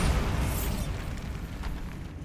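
A Bombarda spell explodes in Hogwarts Legacy, a heavy, booming blast whose low rumble rolls on and slowly dies away.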